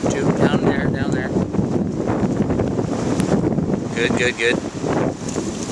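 Strong wind buffets the microphone outdoors in Canada, a loud continuous roar throughout while people talk over it.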